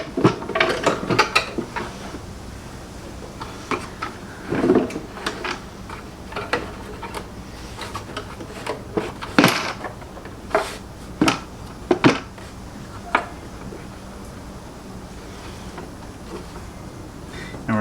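Jeep Renegade 1.3T airbox being set back in place and its two 10mm bolts refitted, giving scattered metallic clicks, ratcheting and plastic knocks at close range with brief pauses between bursts, no talking.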